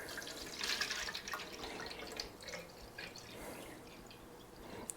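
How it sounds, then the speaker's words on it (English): Water running into a plastic jug mixed with fertilizer for houseplant seedlings, a steady pouring and splashing indoors, close and moderately loud throughout. "the filling of the water jug is enough agitation to mix the fertilizer in"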